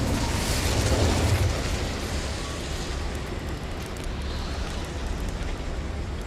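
An Incendio fire spell cast in Hogwarts Legacy surges out as a roaring whoosh that swells loudest early on, then settles into a steady crackling rumble that fades gradually.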